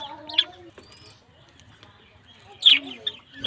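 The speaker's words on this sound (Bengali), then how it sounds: "বাজিস পাখি" A pet budgerigar gives two short, bright chirping bursts, one near the start and one later, with quiet room noise and faint murmuring between them.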